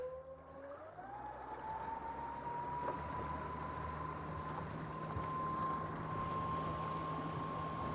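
A Mercury Avator 35e electric outboard drives a 4.5 m boat, its motor whine rising in pitch and then holding a steady high tone over constant water and wind rush.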